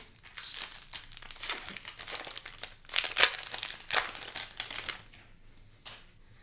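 Crinkling foil wrapper of a Time Spiral Remastered Magic: The Gathering booster pack being torn open, close up, with sharp crackling bursts building to a loud tear midway, then fading out with soft rustles.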